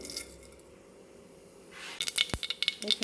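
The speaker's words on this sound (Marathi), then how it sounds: "मोहरी तडतडली आहे" Mustard seeds crackle in hot oil inside a pressure cooker: a quiet low hiss at first, then a rapid run of sharp, close pops and snaps during the final second.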